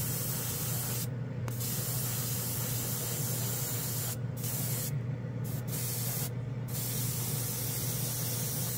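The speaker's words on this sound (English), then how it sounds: "It does atomize the paint really well." A Gaahleri airbrush sprays paint onto a spoon in a steady, close, continuous airy hiss, broken by a few short pauses where the trigger is released.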